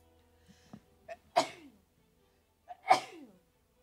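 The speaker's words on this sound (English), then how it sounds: "Oh, I gotta sneeze." Two sharp, close sneezes from one person, each preceded by short catching inhales, the second slightly louder, with quiet pauses between and no talking.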